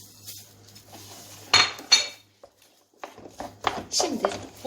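Candied nuts and sesame seeds being stirred in a pan, with a few sharp clinks and scrapes of a utensil against the metal between pauses, while a person talks over the stirring.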